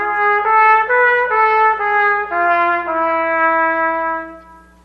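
A trumpet plays a scale with one augmented interval, giving the Eastern European Jewish sound of Hava Nagila; nine sustained notes step upward and back down, bright and clear with no voices, the final tone fading out.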